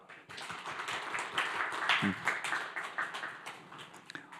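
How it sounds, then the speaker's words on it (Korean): Attendees at a preaching-school lecture clap briefly when prompted, light scattered claps mixed with murmuring voices and laughter, fairly faint and uneven. "박수 한번 칩시다"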